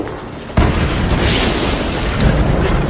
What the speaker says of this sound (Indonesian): yang ketika salah satu ranjau meledak